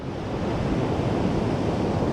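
Waves breaking on North Donmouth Beach in Aberdeen make a steady, broad wash of surf noise, close and unbroken, mixed with wind buffeting the microphone and no voices.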